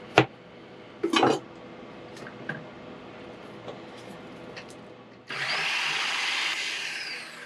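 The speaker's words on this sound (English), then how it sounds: "We will just get it in small enough pieces so we can fit it in the processor" A food processor chops meat for jerky along with onion pieces; a few clattering knocks come first, then the motor starts partway through and runs as a loud, steady whirring grind to the end.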